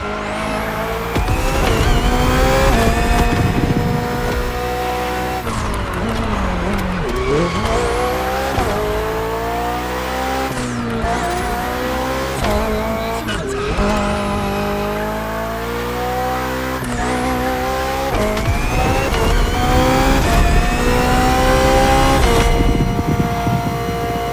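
A BMW hybrid V8 race car in The Crew Motorfest screams close and loud, its engine pitch climbing and dropping through repeated gear shifts, with bursts of tire squeal through the corners.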